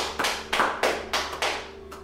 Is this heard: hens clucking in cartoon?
no